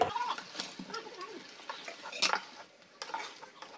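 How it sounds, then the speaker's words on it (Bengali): Veg Manchurian balls drop into boiling gravy in a pan, giving soft splashes and stirring scrapes over a low bubbling sizzle, fairly close and quiet. "গ্রেভিটা ফুটে গেছে, এবার দিয়ে দেবো বলগুলো"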